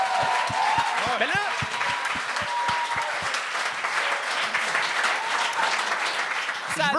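Studio audience at a televised talent show applauding, a loud continuous wash of clapping with a few distinct rhythmic claps early on, cheers and whistles and talking voices mixed over it.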